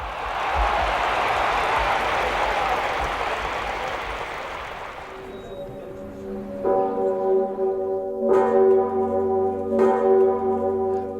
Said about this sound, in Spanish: La gigantesca campana de 9 toneladas de la Catedral de Babel repica.